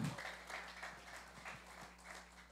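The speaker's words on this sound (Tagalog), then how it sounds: "O parang kukunti lang pumapalakpak." A church congregation gives a few scattered, sparse claps, faint and irregular, in a quiet hall.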